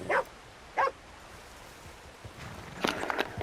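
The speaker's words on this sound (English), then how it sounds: "Annoying ass dog." A dog in the video game Red Dead Redemption 2 gives two short, sharp barks close by, then a pause and a rougher cluster of barks and yelps near the end over quiet background noise.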